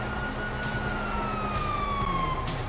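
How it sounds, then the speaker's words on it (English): A police siren in GTA V wails steadily through a dense, noisy background, its pitch slowly falling as if sweeping past. "you hear that? Sirens!"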